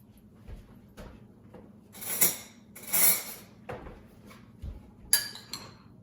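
A spoon scrapes and clinks against a bowl while tuna is stirred together with a pinch of salt, giving a few close, brisk metallic taps and rubs in an otherwise quiet kitchen.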